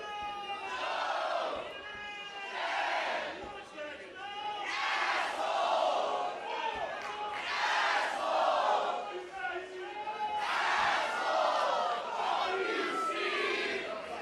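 A wrestling crowd jeers and chants at Steven Stetson during his match with Dezmond Cole, loud rhythmic group shouting rising and falling in repeated waves across the arena, with no clear commentary over it.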